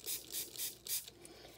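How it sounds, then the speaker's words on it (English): Four or five short hissing sprays of water from a pump spray bottle, evenly spaced, close and fairly quiet, followed by a fainter trailing spritz. "you're going to take your spray bottle and get it nice and wet"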